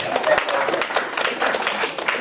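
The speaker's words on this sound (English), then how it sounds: "round of applause" Audience applause at a voice acting workshop, a lively, fairly close burst of clapping with some voices mixed in.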